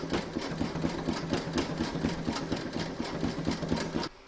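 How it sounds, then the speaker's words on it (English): A sewing machine runs steadily, stitching quilt fabric for a runner, with a close, even mechanical chatter that holds its rhythm for about four seconds and then stops abruptly. "you're going to stitch round number 12"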